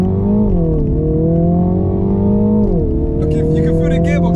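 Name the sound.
Mini Countryman JCW engine revving during launch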